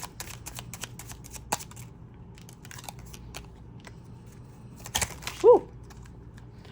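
A deck of tarot cards is shuffled and then bursts out of the hands, making soft scattered riffling clicks and a sudden flurry of cards, followed by a short exhaled exclamation from a person.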